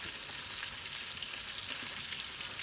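Garlic, tomato and chili flakes frying in a pan, a steady dense sizzle with a constant crackle throughout, close and moderately loud.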